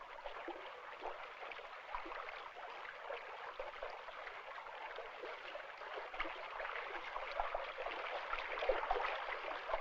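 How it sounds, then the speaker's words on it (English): A spring brook swollen with meltwater gurgles and trickles steadily among hemlock woods, a continuous watery babble at close range that swells slightly louder toward the end, with no voices. "The sound of winter, gurgling away in the brooks of spring."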